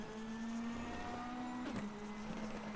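Racing car in the DTM Experience video game: a steady engine drone shifting in pitch with a brief squeal and a short jolt partway through, constant and moderately loud without talk.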